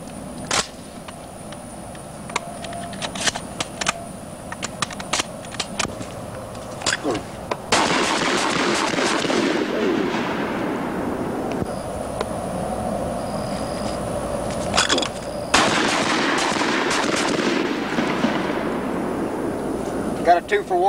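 Shotgun fired with heavy trap loads at a trap shooting range, sharp reports ringing out at intervals, with a steady loud rushing background through the second half and people talking.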